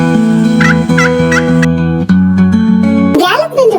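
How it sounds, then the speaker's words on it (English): A turkey gobbles in a short burst of rapid warbling calls near the end, heard over a steady musical backing with chime-like tones, in a farm animal sound sequence. "Gobble gobble, meet our festive farm friend,"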